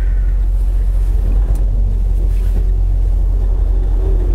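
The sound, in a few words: car engine running and shifting gears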